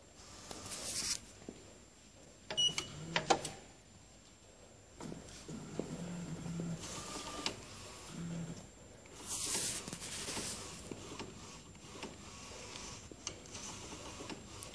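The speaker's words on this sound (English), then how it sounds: "Then the printer start printing." A Pangoo Jet A3 UV flatbed printer runs its print job, a faint mechanical whir with periodic sweeping passes of the print head and soft clicks and clunks, no voices present.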